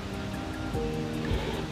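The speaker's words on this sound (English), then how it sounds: "the next thing is to add your 3 liters of water." Three liters of water pour steadily into a container while making a chicken probiotic, giving a continuous rushing, splashing wash that holds at an even level throughout, close by, with no talking.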